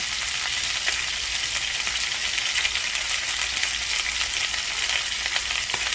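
Ingredients for kathiew, a Cambodian noodle soup, browning in hot oil in a pan: a steady, even sizzle and crackle that holds without pause, close and moderately loud.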